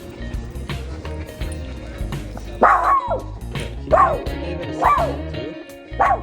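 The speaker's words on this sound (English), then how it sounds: "Let's see, he'll bark there." Milo, a dog, lets out four sharp barks spaced about a second apart, loud and close, over a low background rumble and faint movement sounds.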